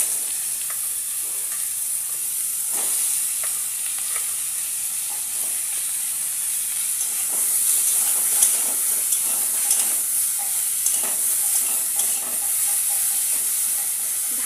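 Eggplant slices frying in a pan, making a long, even hiss of sizzling oil dotted with scattered small pops and crackles throughout, with no one speaking.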